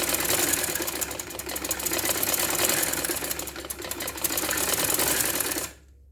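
A sewing machine runs steadily stitching a kameez seam up to the neckline, a close continuous motor whir with fast needle clatter that cuts off abruptly just before the end.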